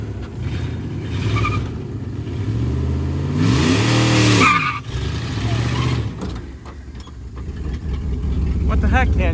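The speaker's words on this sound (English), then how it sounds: "Do you know how to do a burnout?" A turbocharged junkyard truck revs hard through a burnout, with a loud surging engine roar peaking midway and rising pitch sweeps, while people talk over it.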